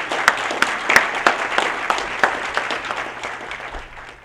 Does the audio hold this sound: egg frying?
no